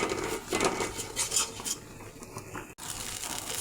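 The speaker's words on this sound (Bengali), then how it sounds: "মশলাটা কাঁচা গন্ধ যাওয়া অবধি কষিয়ে নেব" A spice masala for a tangy, spicy fish curry is sautéed in a pan: quiet metallic spatula scrapes and clinks over a faint sizzle, with a brief cut near the end.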